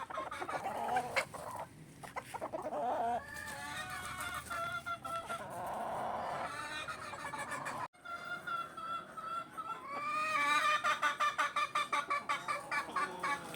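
Hens cluck and squawk loudly and continuously at close range, with excited rising cackles near the end; no one speaks.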